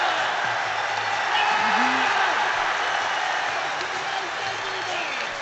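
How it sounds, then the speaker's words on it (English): Football crowd at Hampden cheering and applauding a popular injured player, a broad sustained roar of many voices and clapping heard from a distance over a few seconds, with occasional faint voices. "And listen to that cheer."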